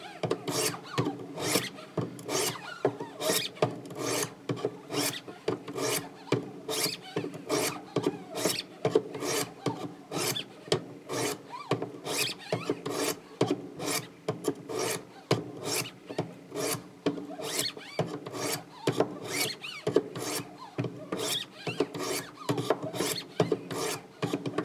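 Repeated rasping sharpening strokes on a 600 grit whetstone, a steady rhythmic scrape roughly once per second, close and even, continuing without speech.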